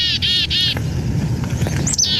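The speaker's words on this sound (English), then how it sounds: "The more familiar chickadee call is made when the birds are in a flock or when they see a sign of danger." Chickadees calling near a migratory bird event, a few repeated high chip-like notes in quick bursts at the start and again near the end, over steady low background noise.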